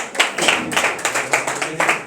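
An audience claps for a singer at a live event, a scattered, uneven patter of hand claps from a small crowd rising and falling in waves close by.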